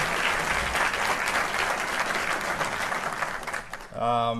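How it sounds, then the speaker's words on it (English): A crowd at a county government meeting applauding loudly and steadily, the clapping ending as a voice begins speaking. "Let's give them a big round of applause."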